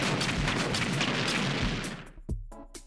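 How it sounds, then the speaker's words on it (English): Rapid booming blasts from a Game Builder Garage battleground game, a dense loud barrage of bursts that cuts off abruptly near the end, leaving a couple of isolated pops. "Would like to learn how to stop these kinds of explosions."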